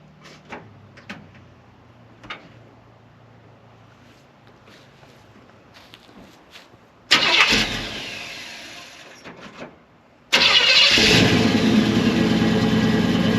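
After some quiet clicks and knocks, a 1964 Chevrolet Chevelle engine turns over and starts twice, running loudly and steadily nearby after each start.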